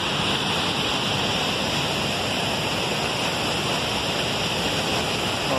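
Waterfall on the Barra Seca river pouring into foamy water, a loud, constant broadband roar filling the whole clip with no voices.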